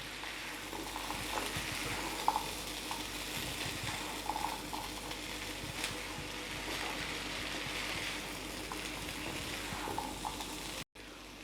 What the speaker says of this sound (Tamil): உருளைக்கிழங்கும் பட்டாணியும் பாருங்கள் ஒன்றா சேர்த்து பரட்டி விட்டுட்டேன்